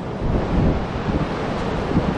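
Strong wind roars steadily across the microphone on Noosa Beach, with a low rumble of surf beneath the gusts.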